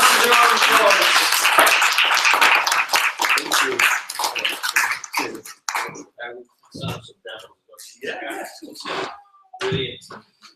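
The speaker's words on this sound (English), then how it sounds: "We've got to do this. It's an imperative that we have to do this. Fantastic. Everyone give Mr. Jon Masters a round of applause." Audience at an entrepreneur networking social claps at first in a close, dense burst, then the clapping breaks up and fades while people talk and murmur over it.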